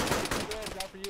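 Gunfire in a military video game, quick sharp shots in a short burst, mixed with voices talking over the radio.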